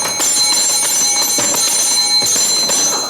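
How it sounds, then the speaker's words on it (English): A bell rings out loud and close in a series of bright, repeated metallic strikes, its ringing tones sustaining steadily through the whole stretch. "Why do you think I rang that bell?"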